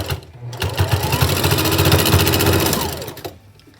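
A sewing machine stitches handmade triple-layer surgical masks in a rapid, close, loud mechanical whirr that spins up, runs for about three seconds and stops abruptly.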